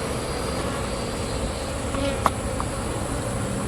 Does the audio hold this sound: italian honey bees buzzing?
yes